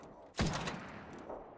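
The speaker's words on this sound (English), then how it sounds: "enemies are shooting at me" Enemy gunfire in a shooter video game: a single loud, close blast erupts suddenly, then trails off into a sustained noisy tail of scattered shots and rumble.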